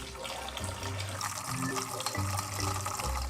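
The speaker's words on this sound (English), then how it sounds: "So I'm gonna give them some water." Steady rushing and splashing of water pouring into a dog bowl, continuous throughout, with a low voice murmuring underneath.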